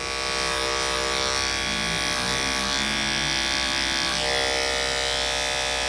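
An electric hair clipper fitted with a detachable OA blade runs steadily and close, buzzing with a dense harmonic whine as it cuts hair during a skin taper barber haircut.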